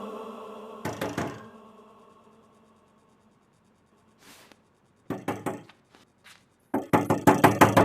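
Loud, heavy banging on a wooden door in sharp bursts: a double knock, a pause, then quicker volleys of pounding, the last a rapid string of blows, close and unaccompanied by speech.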